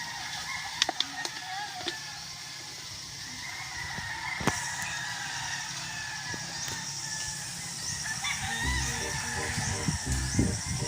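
Chickens and a rooster call and honk off and on through a steady outdoor hum, and a low rumble builds toward the end.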